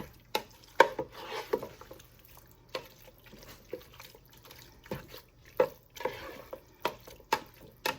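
A spoon stirs a ground turkey, kidney bean and chili bean mixture for nachos, with quiet, irregular scrapes and wet squelches near the pan.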